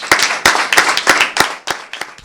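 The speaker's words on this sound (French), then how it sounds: "j'aimerais applaudir toutes ces personnes qui ont permis ce matin que nous soyons rassemblés" Ceremony audience at a donation event clapping, with individual sharp hand claps standing out clearly, loud and close, at a brisk uneven rhythm over about two seconds.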